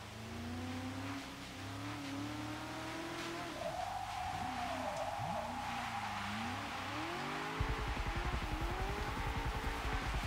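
Shelby 350R drift car with a 640 hp build in the Forza 6 racing game, engine revving and swooping in pitch while the tires squeal through a slide, then a rougher rumbling texture near the end.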